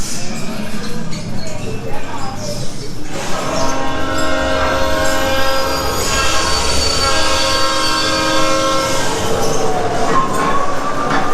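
A metro train ride at Walibi Holland amusement park rolls loudly through a tunnel, wheels screeching and squealing on the rails under a constant heavy rumble.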